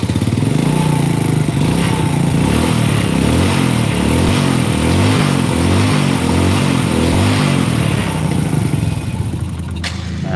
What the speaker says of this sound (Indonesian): motor lebih normal, dalam arti walaupun belum sempurna, tapi sudah menunjukkan perbedaan yang sangat jelas